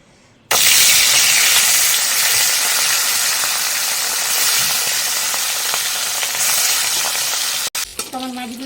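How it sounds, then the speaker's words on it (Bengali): Rohu fish drops into hot oil in a wok and bursts into a loud, steady sizzle that holds for several seconds before a brief clatter near the end. "মাছটা ছেড়ে দাও তো কড়াই তেল গরম হয়ে গেছে"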